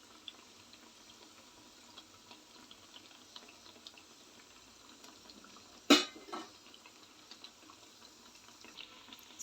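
Sweet corn vadas frying in hot oil, a steady low sizzle and bubbling throughout with one sharp louder burst of spatter partway, no voices.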